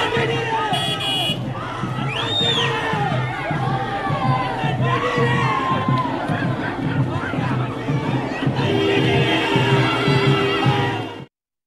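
A crowd of townspeople, children and party members greets a politician at a rally in Tamil Nadu with pounding drums and bursting firecrackers. Shouting and cheering fill the scene in dense, continuous, loud layers, and the noise cuts off abruptly at the end.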